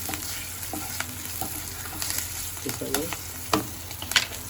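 Dried and green chillies with turmeric fry in hot oil, a close crackling sizzle with scattered pops and scraping stirring sounds throughout.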